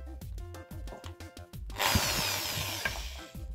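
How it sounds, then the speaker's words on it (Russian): An electric drill whirs up to speed with a high, steady whine while shaping a winter fishing jig body clamped in its chuck, following a series of rhythmic mechanical clicks and knocks. "Зажимаю в патрон дрели."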